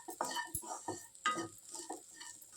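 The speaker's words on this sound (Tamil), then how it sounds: "இதை நல்லா கிளறி விட்டுருக்கோம்" Chickpeas with spice powder being stirred in a pan, a close series of scraping, shuffling strokes with a faint sizzle underneath.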